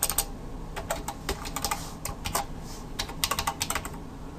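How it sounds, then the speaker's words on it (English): Someone types on a computer keyboard, an irregular run of quick, light key clicks with short pauses, fairly faint and steady throughout. "And bear with my typing."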